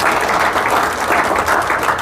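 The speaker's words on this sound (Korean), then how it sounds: "박수 한번 해주세요" An audience at a telecom marketing seminar breaks into dense, steady applause, with many hands clapping loudly and continuously for about two seconds and no pauses.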